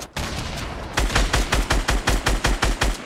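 Rapid automatic gunfire in Fortnite from an enemy shooting from behind, a steady burst of about a dozen loud, evenly spaced shots preceded by a brief lower rattle, with no talking.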